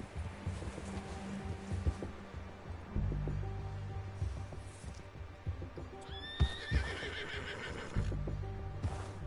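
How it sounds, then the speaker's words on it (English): In Red Dead Redemption 2, a horse rears and lets out several loud, shrill whinnies, with snorts and the clip-clop of hooves between them. "You unlocked rearing with this horse."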